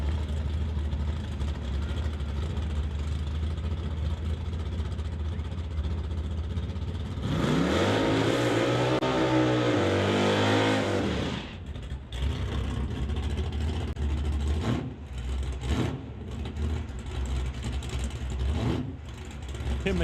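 A Magoo Camaro drag race car launches on a drag strip run, its engine roaring loudly for several seconds with a sweeping rising pitch, then dropping back to a rumbling track-side din with crowd and announcer noise.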